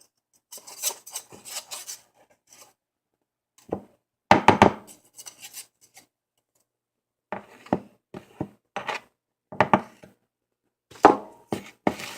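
Snickerdoodle cookie dough being mixed by hand in a bowl, heard as irregular scraping and rasping strokes that come in short bursts separated by pauses, close by with no talking.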